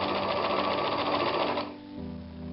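A sewing machine quilts lines across the sections of a ragged cushion cover, running in a fast steady whir for about a second and a half before stopping abruptly.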